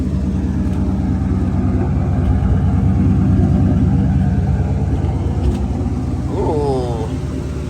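A Ford Mustang V8 running after a fuel leak repair, a loud, steady low rumble with a throbbing idle pulse, close by, with a brief faint chirp near the end.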